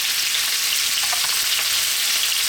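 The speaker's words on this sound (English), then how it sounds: "So in goes the onion. Here goes our ribeye" Ribeye beef and onion hitting a hot pan, a steady close hiss of frying and sizzling with faint stirring, no talk.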